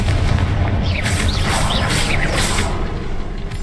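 Confringo and Bombarda spell blasts in Hogwarts Legacy combat, a loud continuous barrage of booming explosions with crackling bursts layered over one another, with no speech.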